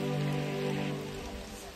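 Monsoon rain falls at the Rani Jhari edge point near Kalasa in Chikkamagaluru, a steady, even patter and hiss of drops heard briefly without speech.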